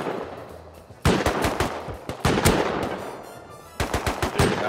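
Automatic gunfire in the survival game Rust rattles out in fast, loud bursts, a couple of seconds each, with short pauses between them.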